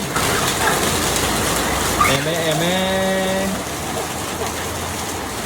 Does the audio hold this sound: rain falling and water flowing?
yes